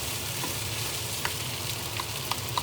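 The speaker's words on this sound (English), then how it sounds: "so I'm going to continue frying that" A steady, close sizzle of chorizo pieces frying in a pan, with a few faint scraping clicks from stirring.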